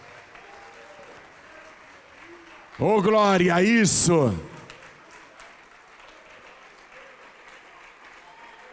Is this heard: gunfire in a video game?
no